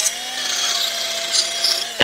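A power tool whirs steadily while rubbing down rusty drain tap brackets from under a van, a continuous high abrasive grind with a sharp knock near the end.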